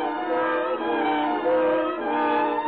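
A departing train in a radio drama sound effect, heard alone as a steady, loud, bandlimited rumble with tonal whistle-like overtones holding through the whole stretch.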